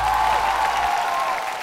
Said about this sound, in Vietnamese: chúng ta cùng dành một tràng pháo tay